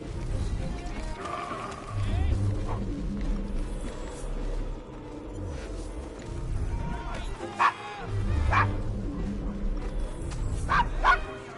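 A dog in Assassin's Creed Syndicate barks repeatedly in sharp, closely spaced bursts, mixed with horse whinnies and clip-clopping hooves on a busy London street, all over a steady game-world din.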